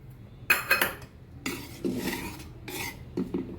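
A spoon stirs a thin spinach bhaji with peanuts and field beans in a metal pot, giving several separate bursts of scraping and clinking, close and moderately loud, with no voice.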